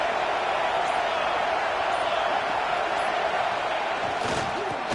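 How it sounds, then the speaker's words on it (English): A fired-up football stadium crowd at an Arkansas versus UNC game roars in a steady, dense wall of noise, loud and continuous throughout with no distinct individual voices standing out. "this crowd is fired up. Listen to this noise here."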